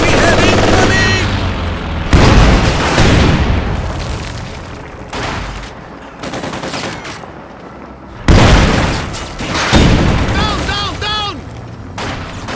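Company of Heroes 2, a World War II strategy game, delivers heavy bursts of gunfire and booming explosions, loud and close, with big blasts at the start and midway, while in-game soldiers shout over the battle.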